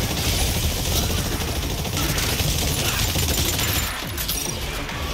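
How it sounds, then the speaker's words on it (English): Dense, continuous automatic gunfire from shooting velociraptors in the video game Exoprimal, loud and unbroken across the whole stretch with crackling impacts mixed in. "How did this game manage to make shooting 100 velociraptors boring?"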